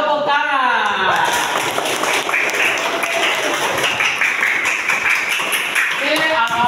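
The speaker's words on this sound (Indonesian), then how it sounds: "Tepuk tangan." A class of schoolchildren claps for a classmate who answered a question, steady close clapping with children's voices and talk over it.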